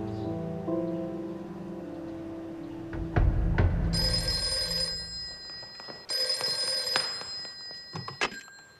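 A telephone rings inside a home during a domestic drama scene. Two loud ring bursts sound after a quiet, murmuring stretch, with a short pause between them.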